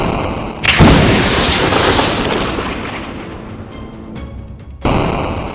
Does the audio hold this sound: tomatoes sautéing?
no